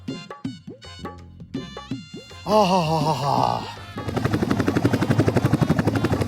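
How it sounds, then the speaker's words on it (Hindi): A few groaning vocal sounds give way to a helicopter's rapid, loud rotor chop that keeps pulsing steadily to the end. "अरे भाई वो देख तेरा हेलीकॉप्टर आ गया"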